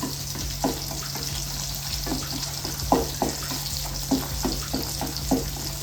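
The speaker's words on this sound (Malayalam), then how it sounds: "ഇതിനകത്തൊരു 4 വറ്റൽമുളക് ഇട്ട് കൊടുത്തേ. ഒന്ന് നല്ലതുപോലെ ഒന്ന് മൂത്ത് വെക്കണം." Dried red chillies frying in hot oil in a pan for a home-style Kerala lunch, a steady hiss with occasional crackles and soft pops under a constant low hum, with no voices.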